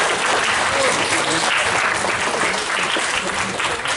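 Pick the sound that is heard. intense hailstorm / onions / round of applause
round of applause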